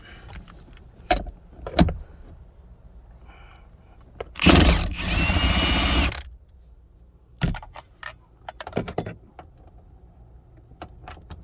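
An impact wrench zaps out 12 mm bolts holding the seats in a 1996-2000 Civic, one loud sustained burst of about two seconds amid scattered clicks and clunks of tools handled nearby.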